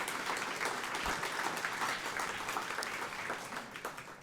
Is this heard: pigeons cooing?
no